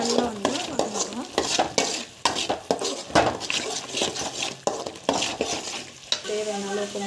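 Turmeric and asafoetida sizzle in hot oil in a pan for a village-style fish curry, with a spoon repeatedly scraping and stirring against the metal. The bursts are irregular and close, and the frying hiss continues beneath them.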